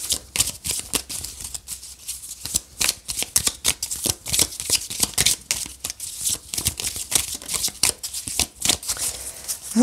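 Tarot-style cards shuffled by hand for a weekly reading, a rapid close riffling and flicking of card stock that runs on continuously with uneven bursts.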